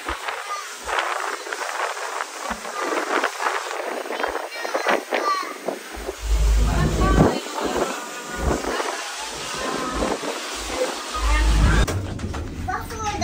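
Strong wind buffets a boat at sea, a steady, loud roar with gusty low rumbles, while people, including a child, talk over it.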